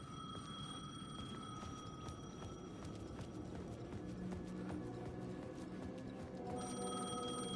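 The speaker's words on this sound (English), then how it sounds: "The payphone was ringing." A payphone rings in the video game Alan Wake, a steady mechanical bell trill that repeats throughout, set against a low rumbling ambient backdrop with scattered soft clicks and no talking.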